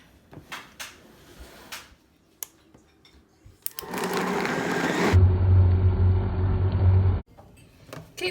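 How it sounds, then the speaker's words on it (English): A blender purees a chile and tomato salsa with about two cups of water, starting after some kitchen clatter and running loud and steady for a few seconds before cutting off abruptly. "We're going to blend this up."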